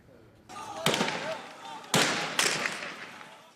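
Three sharp, loud gunshots crack out irregularly in Tripoli, Libya, during fighting for the capital, over a murky background of commotion and distant noise.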